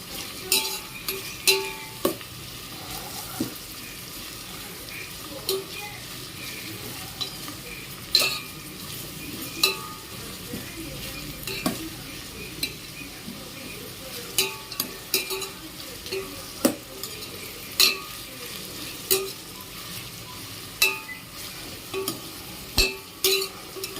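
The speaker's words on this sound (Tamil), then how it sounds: "இப்போ நல்லா வதக்கிடணும்" Onions and curry leaves sautéing in a pan for vegetable biryani, a steady sizzle under regular scraping stir strokes and occasional clinks of a spoon against the pot, close and continuous with no talking.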